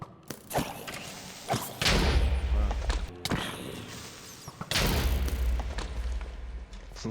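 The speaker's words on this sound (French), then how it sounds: "J'entends des explosions" Deep booming explosions in the video game Minecraft thud repeatedly amid rumbling noise, loud and dense, with voices faintly mixed in.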